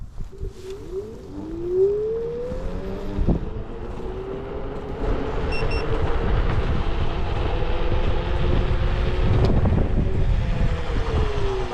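A Circooter Mate off-road e-scooter pulls away from a stop in turbo mode, its motor whine rising in pitch as it speeds up, then settling under gusty wind and rolling rumble.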